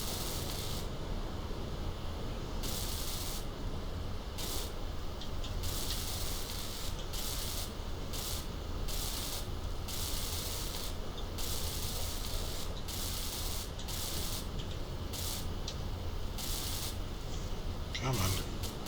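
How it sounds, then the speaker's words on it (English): Welding a car floor, a steady continuous crackling hiss that runs unbroken throughout with rapid flickering bursts, fairly close and even in level. "Now I just go ahead and weld up the floor here."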